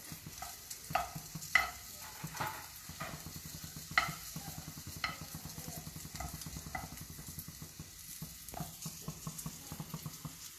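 Paneer cubes fry in a pan while being stirred, giving a soft, steady sizzle broken by light scraping and tapping strokes, quiet and close with no talk over it.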